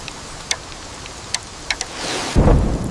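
A short thunderstorm moment with rain: a few sharp drips tick on a surface, then a low, close rumble of thunder swells up at the end.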